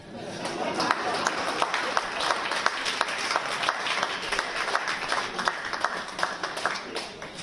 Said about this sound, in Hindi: तालियां अब चाहिए।